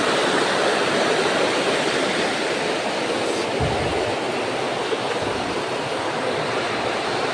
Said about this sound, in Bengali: এই যে জল যাইতেছে এদিক দিয়ে জল যাইতেছে